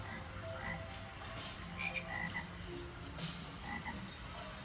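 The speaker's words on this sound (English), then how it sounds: "Sounds like frogs." Frogs croak steadily in a garden setting heard from a round boat ride at an amusement park, a dense chorus of moderate, continuous calls with no talking.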